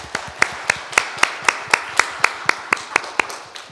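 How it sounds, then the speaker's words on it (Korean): A church congregation claps together during a Korean Sunday service, giving a run of about fourteen sharp, evenly spaced claps in a steady unison rhythm. "박수를 한번 하겠습니다."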